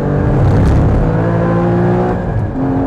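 A 380bhp mid-engined Porsche Cayman GT4 pulls hard out of a bend, its engine a loud, steady close-up roar with a rising harmonic whine that holds for the full few seconds, no voices over it.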